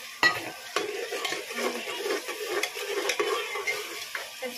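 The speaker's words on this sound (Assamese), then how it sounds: "তাৰপিছত লৰাই দিছোঁ" Spices fry in a pot with a splash of water while a spoon stirs them, making repeated scraping strokes in an uneven rhythm over a soft, continuous sizzle.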